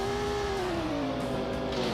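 A race car engine in the Assetto Corsa sim racing game drones loudly and steadily throughout, its pitch gliding downward and shifting as the revs change, with no voices over it.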